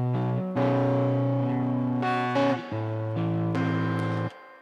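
Guitar chords treated with heavy, beefy compression and effects, thick and smooth, several sustained strummed chords changing every second or so, close and loud with no talk.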